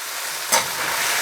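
Squid stir frying in a hot pan over high heat, a steady loud sizzle with a brief surge of hissing near the middle, no talk.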